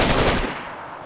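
Rapid burst of automatic gunfire in the survival video game DayZ, loud and close, with dense repeated shots that cut off after about half a second and leave a fading echo.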